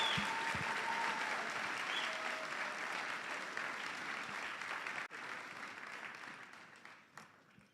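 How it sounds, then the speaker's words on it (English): A high school audience at a senior recognition ceremony applauds its 2025 Hall of Fame honorees, a full, sustained round of clapping that slowly thins out toward the end. "Please give our Hall of Fame for 2025 a round of applause."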